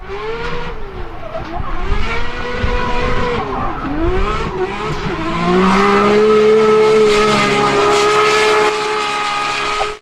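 Powerful drift cars slide with long, wailing tire squeals over revving engines, the screeches sweeping and overlapping loudly before one sustained squeal dominates the close.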